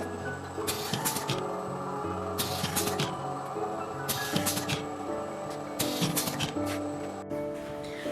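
Fully automatic paper tube crimping machine running, with a steady mechanical hum broken by repeated bright clanking strokes in an irregular rhythm, heard close with no talk.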